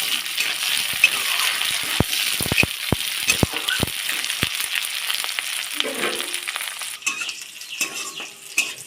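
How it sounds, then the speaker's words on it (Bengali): Green chilies and garlic cloves frying in a pan, a continuous sizzle broken by sharp utensil clicks and taps against the pan, with a short metallic rattle near the end. "সঙ্গে 5 কোয়া রসুন সব ভেজে নেব।"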